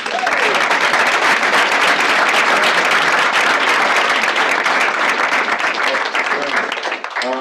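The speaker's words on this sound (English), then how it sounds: "Let's give them a round of applause." A meeting audience applauds a stakeholder panel, giving loud, dense clapping that lasts for several seconds and fades near the end.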